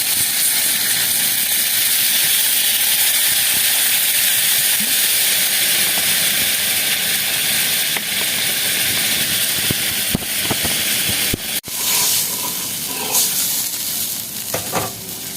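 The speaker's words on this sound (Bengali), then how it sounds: "এই দেখুন ঝোলটা ফুটে গেছে" A pot of turmeric-and-salt water gravy for Tengra fish curry comes to a boil, with a loud, steady hiss and bubbling sizzle throughout and a few clinks near the end. No voices are heard.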